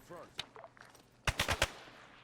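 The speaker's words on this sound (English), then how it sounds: "it sounds like it's just small arms fire" Small arms gunfire in the Arma 3 video game: a quick burst of four or five sharp, close shots at the end, after faint scattered sounds and a distant pop.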